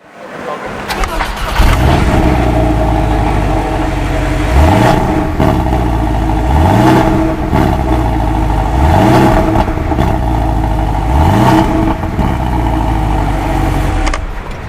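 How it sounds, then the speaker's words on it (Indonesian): A 2017 Porsche 718 Cayman's flat-four boxer engine revs repeatedly, with about five rising blips and a rough, throaty idle between them, loud and close. "Suara khas seperti itu dihasilkan karena mesin tidak menggunakan konfigurasi segaris, melainkan 4 silinder berhadapan alias boxer atau flat 4."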